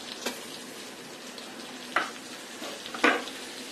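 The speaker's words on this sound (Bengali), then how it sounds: "এখন চুলার আঁচটা মিডিয়ামে রেখে এই ময়দাটা বাটারের মধ্যে একটু ভেজে নিতে হবে" Flour fries in melted butter over medium heat with a steady soft sizzle, broken by a few sharper scraping stirs of a utensil in the pan, close up with no voices.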